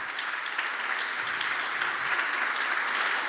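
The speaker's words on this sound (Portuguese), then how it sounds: "irmão, aplauda Jesus." A church congregation applauding, dense sustained clapping from many hands that fills the room evenly and stays loud throughout.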